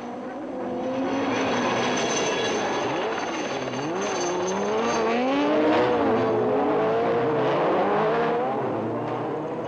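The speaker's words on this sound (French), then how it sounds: "Tour après tour, la bagarre est serrée, non seulement entre Yvan Muller et Christophe Vaison pour la première place" Race cars on a dirt ice-racing circuit at a Trophée Andros round scream past, a loud sustained engine howl whose pitch climbs and falls as they accelerate, shift and sweep by, with no talk over it.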